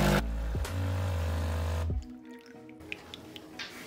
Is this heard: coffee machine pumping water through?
yes